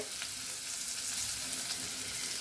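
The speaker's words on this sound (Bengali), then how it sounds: "পেঁয়াজটা একটু নাড়াচাড়া হোক" Chopped onions sizzling in a pan, with a dense, steady hiss of frying heard close up and faint stirring sounds underneath.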